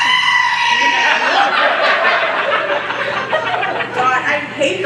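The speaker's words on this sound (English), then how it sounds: "He's a goat singing, Dear Evan Goatston." A goat bleats in a sung music-video track, its wavering cries running loud and continuous through nearly five seconds over a harmonic musical backing.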